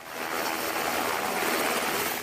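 A helicopter setting down for a landing, its rotor wash and engine forming a loud, steady, close roar that fills the whole moment with rushing noise and no voices.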